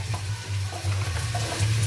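Onions for chicken stew frying in a pan, a steady close sizzle with a low hum and faint stirring scrapes throughout.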